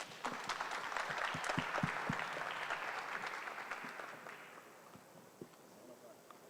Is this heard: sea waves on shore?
no